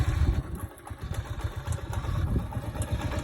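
A motorcycle cruising along on a ride, its engine running as a steady, close, rumbling drone with clattering pulses throughout and no talk over it.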